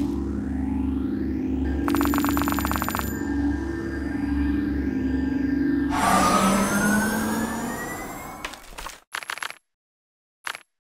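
An ambulance siren in the video game Kick The Buddy sweeps upward loudly over busy game sound effects, then cuts off abruptly into short bursts and near silence.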